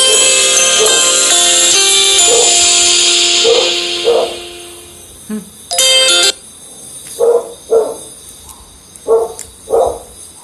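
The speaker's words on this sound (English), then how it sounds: "The dog's too noisy, you know." A dog barks noisily in a string of short, sharp yaps that grow more frequent in the second half. The barks follow a sustained ringing, chime-like tone at the start.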